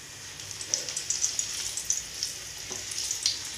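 Pani puri dough rounds fry in hot oil, giving a dense, crackling sizzle with small popping spatters scattered throughout. The sound is close and steady with no talking.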